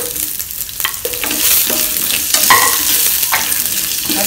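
Ingredients spluttering loudly in hot oil for a spicy coconut chutney, close and continuous, with repeated sharp pops and crackles and the scrape of stirring.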